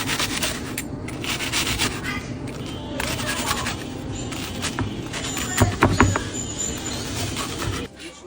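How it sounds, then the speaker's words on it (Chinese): A knife cuts a deep-fried golden chicken cutlet diagonally into small pieces on a board, making close, repeated crunchy strokes and scraping with a few louder chops near the end. "斜刀给它切小块"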